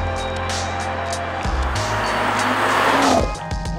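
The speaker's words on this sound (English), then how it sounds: "after driving the M240i xDrive Coupé on the track" A 2018 BMW M240i xDrive coupé is driven hard on a race track, its engine roaring loud and near with shifting pitch, a brief tire squeal as it corners, and the engine note falling away at the end.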